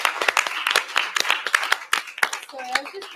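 Audience at a women-in-tech entrepreneurship event clapping in a scattered burst of handclaps, moderately near, with voices talking over it.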